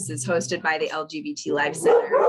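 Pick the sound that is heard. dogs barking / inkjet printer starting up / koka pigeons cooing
dogs barking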